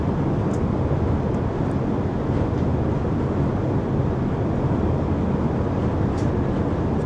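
Steady broadband rumble and rushing noise of a Beijing–Tianjin bullet train at about 306 km/h, heard from inside, continuous and even throughout.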